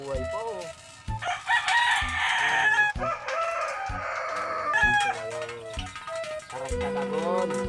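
A rooster crows repeatedly, loud and close, with clucking fowl around it while people talk in the background.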